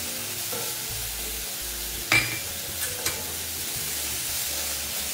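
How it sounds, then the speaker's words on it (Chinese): Pork ribs and noodles are stir-fried with sugar, salt, light soy sauce and oyster sauce, giving a continuous close sizzle. A few sharp scrapes and clinks come from the utensil stirring the pan. "然后再将所有调味料拌炒均匀。"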